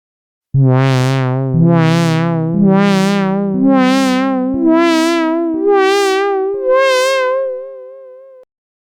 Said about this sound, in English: As you can hear, this adds some vibrato to the sound.